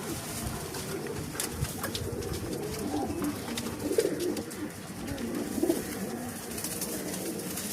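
Short-bodied female black diamond pigeons with feathered feet give continuous low cooing, several birds murmuring together at close range with occasional louder rolling coos, no speech.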